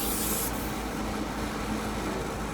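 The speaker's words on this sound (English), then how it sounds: "we're going to pump glue in using this air gun with a suction cup tip" Compressed air gun with a suction cup tip forcing glue into a crack on an acoustic guitar top, a loud continuous close hiss and rushing air throughout, with a brief sharper burst at the start.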